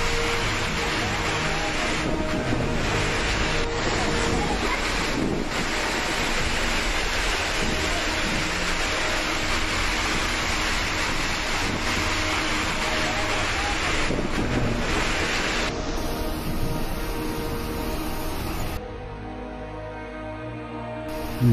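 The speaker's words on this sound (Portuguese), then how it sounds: "Olha a ventania disso." Strong windstorm with heavy rain in Italy, a continuous loud roar of gusting wind and pouring rain buffeting the microphone, sustained throughout with a brief lull near the end.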